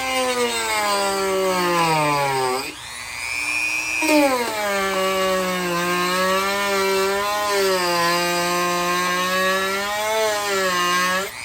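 A power saw trims a Subaru Sambar bumper. Its whining tone holds steady and drops in pitch under load, cuts out briefly, then runs on in long, close, continuous passes.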